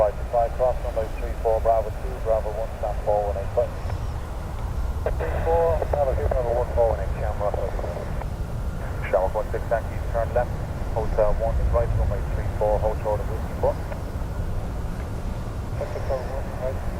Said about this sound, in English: So Ryanair has been cleared to take off.